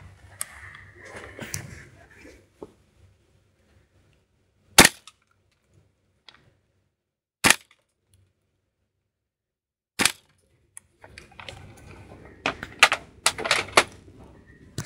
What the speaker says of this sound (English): And now we will shoot it directly on the lens of this Eastern Arms RMR.